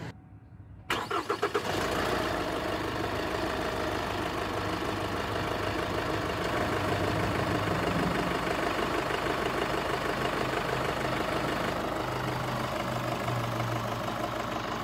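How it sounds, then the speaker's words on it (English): 2018 Chevrolet Colorado ZR2 diesel turning over and settling into a steady, loud idle, recorded close with the hood up, a rough clattering rumble holding even throughout. "I do want to start it and let you listen to how loud it is, both with the hood up and the hood down"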